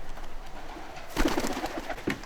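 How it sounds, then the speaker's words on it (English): Hungry pigeons crowd close by, giving soft, low cooing calls and brief fluttering bursts near the listener, with no talking. "Look, these pigeons are following us, mate."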